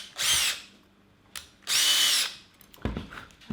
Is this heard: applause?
no